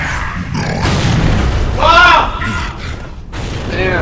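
Video game shotgun blast, a heavy boom in the middle of a stretch of gameplay noise, with people talking over it.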